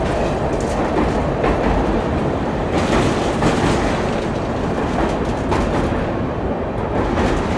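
A loud, steady rail roar from aboard the Mahabodhi Express as an RRTS rapid rail train runs parallel and overtakes, dense rumble with faint clickety-clack, continuous and close.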